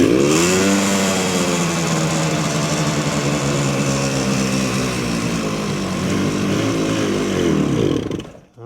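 A 1970 Suzuki T350 two-stroke motorcycle engine fires and runs after a squirt of carb cleaner, a loud, steady buzzing idle with rising and falling revs for about eight seconds before cutting out abruptly.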